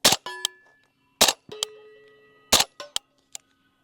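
Q Honey Badger rifle shots, subsonic ammunition, striking steel targets outdoors: three sharp reports each followed by a ringing metallic clang from the steel, spaced about a second and a quarter apart, with a lingering tone between.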